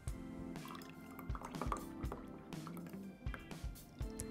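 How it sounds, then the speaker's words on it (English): Preservative and an essential oil blend drip and trickle into a water mixture for homemade hand wash, soft close liquid drips and splashes over a low background hum. "And then to the water mixture, we'll add the preservative as well as our essential oil blend."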